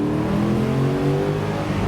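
A 2008 Ford Mustang GT Premium Convertible's engine revs steadily and loudly as the car accelerates, a continuous rising drone lasting about two seconds with no talking.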